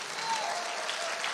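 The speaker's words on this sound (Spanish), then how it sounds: "Denle un aplauso al Señor, denle un aplauso" Congregation applause at a church service, a dense, steady wash of clapping that fills the whole brief moment at even volume.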